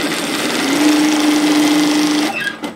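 A sewing machine runs a steady seam through slippery robe fabric, a continuous close whir lasting a couple of seconds before stopping abruptly with a brief clatter.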